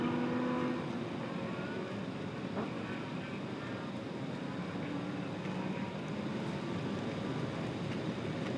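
GT race cars lapping NOLA Motorsports Park during a GT World Challenge America race, a distant, faint, steady engine drone with passing cars blending into a continuous roar and no clear voices.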